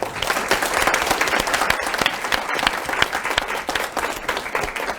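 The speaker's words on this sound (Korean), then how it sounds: "서로가 서로한테 수고 많았다고 격려하는 차원에서 박수 한번 치고 마무리하자" A class of students claps together at the end of a final lecture, a continuous, even round of applause at moderate level throughout, with scattered sharper claps standing out.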